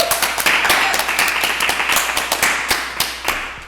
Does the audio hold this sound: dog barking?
no